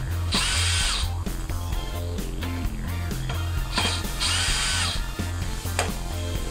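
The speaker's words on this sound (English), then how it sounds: "I'm going to get these really close with the screw gun," Screw gun driving screws for a homemade polycarbonate plastic bender, with loud whirring bursts and a ratcheting clutch chatter, close and continuous, with no talking.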